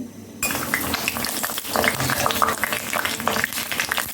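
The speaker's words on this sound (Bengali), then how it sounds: "ডিম আর কন্ডেন্স মিল্ক মিলে আমি ব্রেডটা ভাজি করব" Bread dipped in egg and condensed milk fries in a pan with a steady loud crackling sizzle, while utensils scrape and clink, and a voice speaks now and then.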